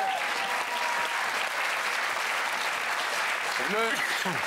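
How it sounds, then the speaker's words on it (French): A crowd applauds steadily throughout, a dense wash of clapping with a few voices calling out near the end. "Applaudissements pour Gérard, mesdames et messieurs"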